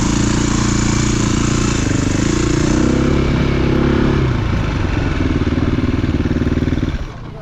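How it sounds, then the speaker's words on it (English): A dirt bike engine restarts and revs loudly up close on a sloppy, muddy track at Old St. Joe. The engine then settles into a throbbing idle and fades a little as the bike rides off. "he is able to get the bike restarted"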